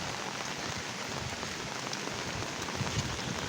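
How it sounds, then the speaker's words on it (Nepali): Rain falls steadily with a dense, even hiss and patter on surfaces near a rain-swollen river, with no voices. "यो वर्षाको पानी हो।"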